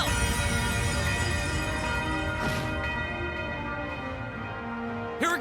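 A bell-chime skill attack in the video game Legend of Heroes: Trails rings out with sustained, shimmering bell tones layered over game music, loud and steady, with a bright swell midway and a sharp accent at the end.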